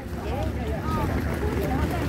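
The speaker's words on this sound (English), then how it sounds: "So that's a boat. It's just getting off." A departing boat's engine rumbles steadily close by at Koh Phi Phi, Thailand, mixed with wind buffeting and water noise, while voices talk faintly in the background.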